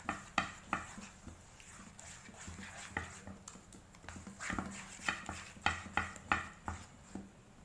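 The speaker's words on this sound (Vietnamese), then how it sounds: "Mình dùng cái đũa mình khuấy nó dễ hơn." Chopsticks stirring thick, sticky rice-flour batter for bánh phu thê, making soft repeated knocks and clicks against the bowl at an uneven pace, close and quiet.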